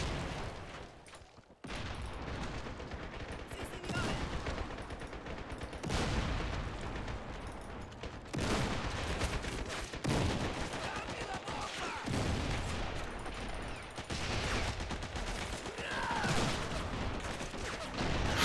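Submachine gun fire in a Valkyrie mod 1v1 tournament match, with dense, near-continuous bursts of shots and booms lasting the whole stretch after a brief lull at the start.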